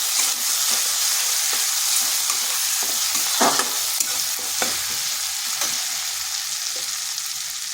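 Ginger and spices for a vegetarian cabbage curry stirred while frying in oil, a bright continuous sizzle with repeated scraping stir strokes, close and steady, no voices.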